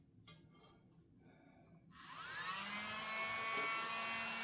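A small handheld blower starts after a few faint clicks and rustles, then settles into a steady rising whine with a broad rush of air, close and fairly loud, continuing to the end.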